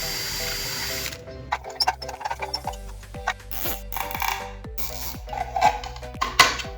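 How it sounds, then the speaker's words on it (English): A power drill bores a hole through an ebike part, with several short whirring bursts and gritty bites into the material, close up and without talk. "so I need to drill another one around here"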